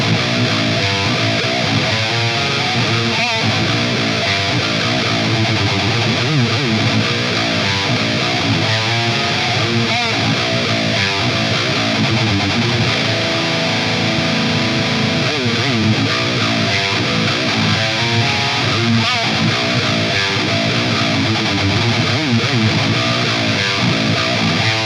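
Heavily distorted riff played on an FGN Iliad 7-string electric guitar in its first voice, a dense, continuous wall of chugging low notes and sustained chords running loud throughout with no talking.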